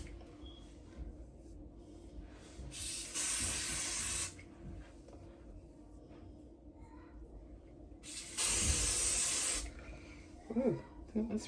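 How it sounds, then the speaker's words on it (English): Aerosol hair spray hisses onto hair in two long bursts of a couple of seconds each, fairly close, with quiet room noise and light movement between them. "don't spray all in my ears"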